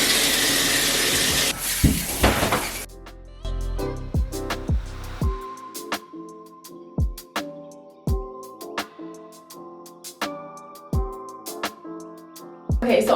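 Water runs in a steady hiss for a few seconds as curly hair is rinsed out while hanging upside down, then gives way to rhythmic music with punchy beats.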